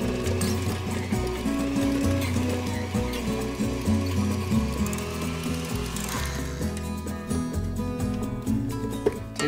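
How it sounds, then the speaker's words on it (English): An electric stand mixer beating butter until smooth, a continuous close mechanical whir with a rhythmic knocking and clatter from the beater, steady throughout with no speech. "The butter into the mixer and beat it until it's completely smooth."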